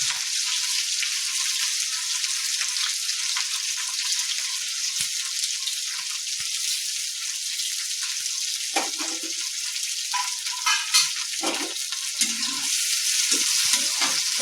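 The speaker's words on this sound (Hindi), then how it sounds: "आब सबटा सीम लोहिया में दऽ देबै आ मध्यम आंच पर 5 मिनट एकरा भूज लेबै" Flat beans (sem) fry in oil in a pan over medium heat with a steady, bright sizzle throughout, and soft scrapes and stirring knocks come through now and then.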